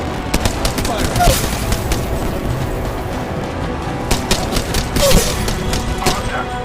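Rapid video game gunfire crackles in dense bursts during a squad-based battle royale match in a colosseum lobby, with heavy thuds and booms mixed in and game voice callouts heard over the shooting.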